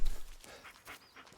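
A dog panting in the Blair Witch video game, quick close breathy huffs in a short uneven series, with no talk over it.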